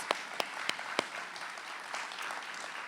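Audience applause for the MCs at an awards ceremony, opening with a few sharp individual claps that swell into a steady wash of clapping from a large crowd, moderately loud and without voices.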